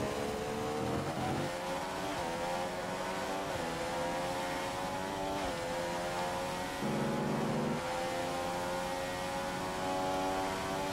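Formula 1 car engine in the racing video game F1 2015 at the Chinese Grand Prix, a tonal whine that steps up through gears with brief drops between shifts, steady and fairly loud throughout.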